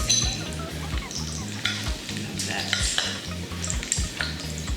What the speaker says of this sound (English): So we burn the garlic, Okay. so basically burning it Okay. before we add the pork.